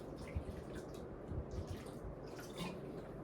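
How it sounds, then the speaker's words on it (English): Water trickles and drips out of a freshly sprayed, dried-out seed tray during spring sowing, a close, continuous wet patter with a few louder drops and no voices. "See that water start to drip out there, right there?"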